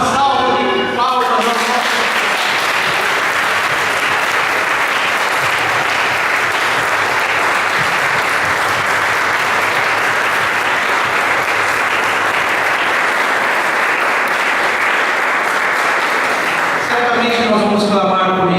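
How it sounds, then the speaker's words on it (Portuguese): A church congregation bursts into loud, sustained applause during a worship service, dense clapping holding steady for about fifteen seconds between short stretches of a speaking voice at the start and end. "Uma salva de palmas."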